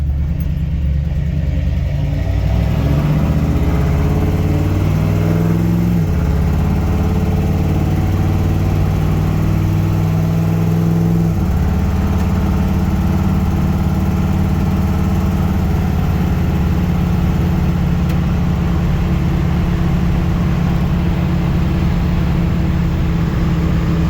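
A 1964 Ford F100 pickup truck with an automatic transmission runs steadily for the whole stretch, a low rumbling drone whose pitch shifts a couple of times as it changes speed, with no talking.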